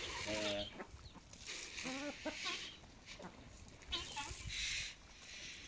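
Chickens cluck and squawk nearby in scattered bursts, mixed with faint background voices and outdoor noise.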